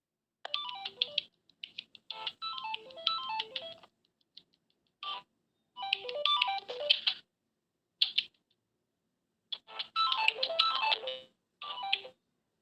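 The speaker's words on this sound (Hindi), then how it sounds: "उनका फोन आ रहा है, वही तंग कर रहा है उनको" A phone ringtone plays a bright, tinkling melody in repeated bursts separated by short silences, loud and close.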